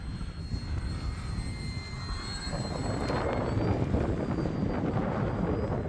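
An Arrows Bearcat RC model airplane flies on a windy day, its small engine buzzing and whining as it passes, growing louder and rougher over a background of gusting wind noise.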